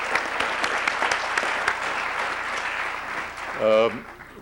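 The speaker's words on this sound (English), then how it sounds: "I'd like both of you to stand up for just a second and accept my applause." Audience applause in a lecture hall, dense clapping with sharp individual claps standing out, continuing steadily before a voice cuts in briefly near the end.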